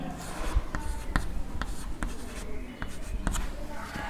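A number written by hand during a primary-school maths lesson, heard as soft scratchy pen or marker strokes with small taps, close and moderately quiet, against faint room noise.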